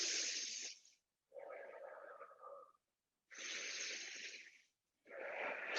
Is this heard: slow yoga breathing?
yes